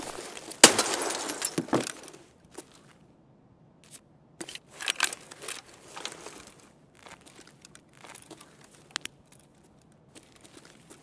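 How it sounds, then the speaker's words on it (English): In the Escape From Tarkov video game, a shot takes out a light and glass shatters loudly up close, followed by scattered crunching and tinkling glass fragments and footsteps on broken glass over several seconds. "I say I'm going to shoot a light."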